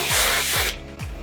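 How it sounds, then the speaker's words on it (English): Hairspray hisses from a can onto a half-up railroad braid in one close, loud spray, a brief pause, then a second short burst. "Put a little hairspray"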